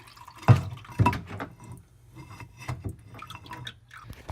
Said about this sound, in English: there's water draining out